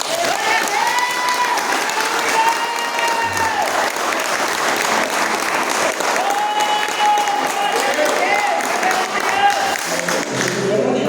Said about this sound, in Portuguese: E as palmas logo agradecem.